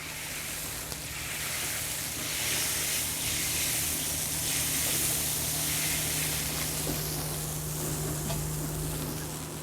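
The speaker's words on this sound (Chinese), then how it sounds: "炒香了加水哈，等它在里面熬" A pot of soup built from fried tomatoes, pickled mustard greens and pickled chilies simmers after water is added, giving a steady, soft sizzling hiss with faint bubbling and an occasional light clink.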